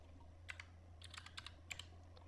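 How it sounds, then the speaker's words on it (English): Someone types the SUM function into an Excel spreadsheet on a computer keyboard: about a dozen soft, quick keystrokes in short clusters over a low steady hum. "I'm going to type the sum function"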